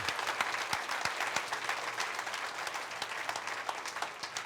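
Church congregation applauding the Lord during a Spanish-language service, a steady, dense wash of clapping from a large crowd, moderately distant and without talk.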